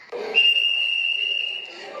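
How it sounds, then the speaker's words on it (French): A single long shrill whistle blast signals a midday work break for day labourers, held steady for over a second, fairly near, with faint voices at the start and end. "Au coup de sifflet, c'est la pause."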